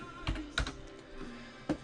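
A few scattered keystrokes on a computer keyboard, close and quiet, with irregular clicks and pauses between them, no voices.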